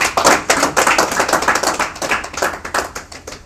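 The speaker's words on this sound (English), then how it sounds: "Can we please give them another round of applause?" Sustained audience applause at a product roadshow event in Namibia, dense steady clapping from many hands filling the room with no voices over it.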